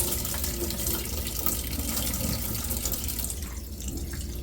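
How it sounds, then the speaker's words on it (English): Rice is rinsed in water at a running tap. Steady, close splashing and trickling keep going without pause, and no one speaks. "You don't want to be spending so much time on washing rice. Look how nice and clear that water's turning already."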